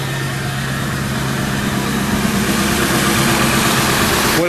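A 1999 Ford F450 dually crew cab with a 7.3L diesel engine idling, a loud, steady low rumble with a constant drone and rattly texture, close up with no voices.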